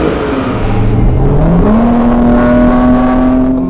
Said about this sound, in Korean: 중저음의 카이엔 배기음에서 고음의 배기음이 추가돼서 질감이라던가 이런 부분이 강화가 되는 것